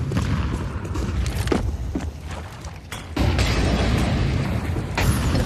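A grenade blast in a competitive tactical shooter match lands as a deep boom with a rumbling tail, surrounded by other in-game thuds, footsteps and a second loud burst near the end, with no talk over it.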